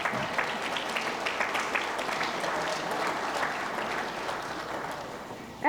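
Audience at a chamber of commerce annual meeting gives a warm round of applause, continuous crowded clapping throughout, slowly fading toward the end.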